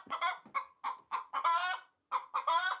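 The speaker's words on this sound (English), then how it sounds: "She wants to cluck, but her mouth is too full of corn" A hen clucks in a run of short, close, fairly loud bursts, some pulses clipped and others drawn out into squawky notes, with brief gaps between them and no voices.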